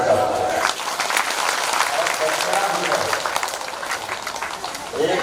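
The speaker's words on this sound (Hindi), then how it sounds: "सब लोग ताली बजाओ।" A gathering at a Holi festival claps together, a dense, steady round of applause lasting several seconds with a voice heard over it.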